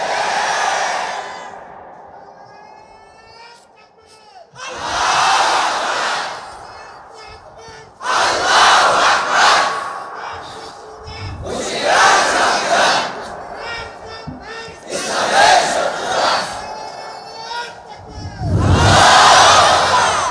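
A large crowd at a Bangladeshi Islamic political rally shouts slogans in loud, repeated call-and-response bursts, a lead voice alternating with massed roaring replies, close and strong throughout.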